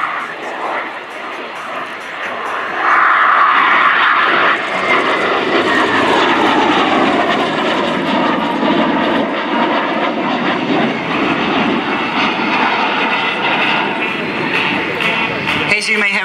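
A Leonardo T-346 Master jet trainer performs a flying display at RIAT 2024, its engine a loud continuous roar rising and shifting as it passes, heard under a commentator's voice.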